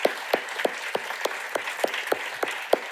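A conference audience rises in a standing ovation, and the clapping comes as distinct, evenly spaced claps at a moderate, fairly quiet level, with no talk over it.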